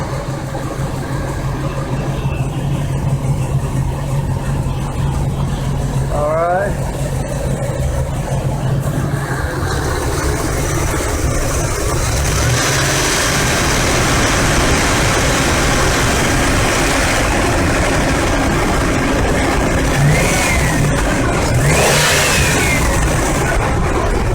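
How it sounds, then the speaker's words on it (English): A pickup truck engine idles loudly up close, then revs up and rises in pitch several times before settling back to a steady rumble. "fire up the truck, see how smooth she runs"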